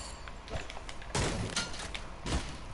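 Bursts of gunfire from a Fortnite match, a few short volleys clustered close together, with sharp cracks and thuds sounding at moderate distance.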